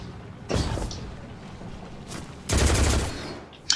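Hand cannon gunfire in the video game Destiny 2: two heavy, sharp shots about two seconds apart, each with a brief ringing tail, plus a small mechanical click near the end.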